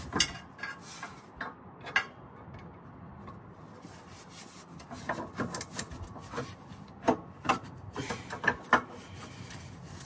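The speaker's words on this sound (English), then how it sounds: "Get my wrench, make sure it's on the unbolting side." A ratcheting wrench works on a Cadillac CTS-V transmission mount, producing irregular metallic clicks and rubbing scrapes in short bursts, close and fairly quiet, with pauses between turns.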